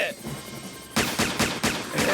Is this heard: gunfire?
yes